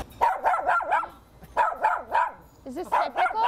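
A dog barks in three quick bursts of sharp, repeated yips and barks, close and loud, during a training session on socializing with other dogs.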